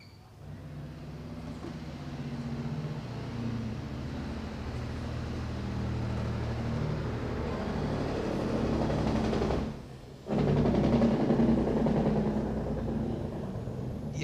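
A truck engine's Jake brake roars in a low, throaty rumble that builds over several seconds, cuts out briefly, then resumes loud and close, with no talking over it.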